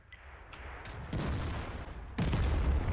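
An artillery gun firing in World of Tanks: heavy booming blasts with a loud crack near the middle and a stronger, sustained roar toward the end, set over a constant rumbling battlefield background.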